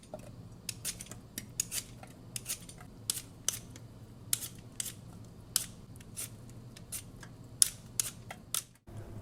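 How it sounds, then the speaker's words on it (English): Potatoes being peeled, with a quiet run of irregular, crisp scraping and snipping strokes over a low background hum, close and faint, with no talking. "We'll peel these clean and set them off to the side."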